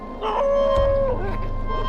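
At night by a cremation ground, a dog lets out a long, loud, sustained howl with a wavering pitch close by, trailing into lower moans.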